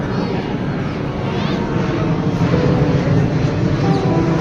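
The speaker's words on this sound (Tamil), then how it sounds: "மார்க்கமாக செல்லும் விமானம் தாழ்ந்து செல்லும் காட்சி" An airplane flies low overhead near Kochuveli, Kerala, heading toward Thiruvananthapuram, giving a steady, loud broadband roar that holds evenly throughout with no talk.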